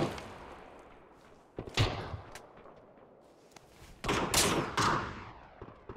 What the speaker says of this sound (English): Got a bot out there shooting at me